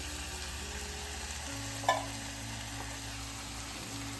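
Drained chilies added to a pan and stirred while cooking Texas lasagna with Mexican flavors, a steady low sizzle with a soft scrape of stirring and one small clink, close and without talk.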